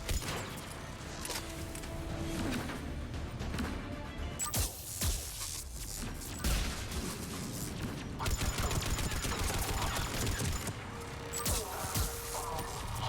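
Turret gunfire in Mass Effect 3 rattles in bursts amid clattering combat noise, loud and dense with brief drops between volleys over the whole span.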